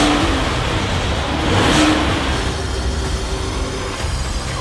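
A Ram 1500 Hurricane Tungsten pickup with a new exhaust system revs its engine, a steady mid-pitched drone that swells briefly in the middle and holds at a constant level, with no talk.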